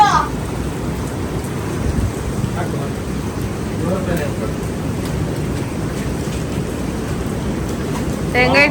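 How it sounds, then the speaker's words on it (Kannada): Heavy monsoon rain in Udupi roars continuously, a dense broadband wash with a few brief higher sounds on top. "ಮಳೆಯೋ ಮಯವಾಗಿದೆ"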